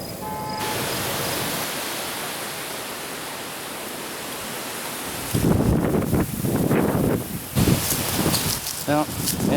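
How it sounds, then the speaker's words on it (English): Strong wind roars outdoors beside a creek while bow hunting in Michigan, a loud broad rushing that then turns into heavy gusty buffeting against the microphone, close and constant. "as you can see, the wind's kicking out here"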